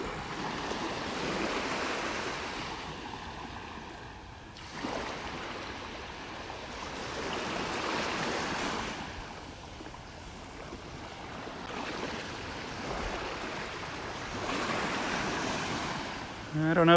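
Surf washes in on Vanderbilt Beach in North Naples, Florida, with waves swelling and breaking in slow cycles every few seconds, under a light rush of wind against the microphone.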